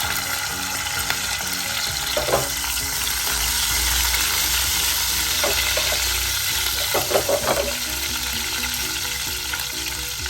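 Whole garlic sizzles in a pan over medium heat, giving a constant dense crackling hiss with occasional stirring scrapes and small pops, close and steady throughout.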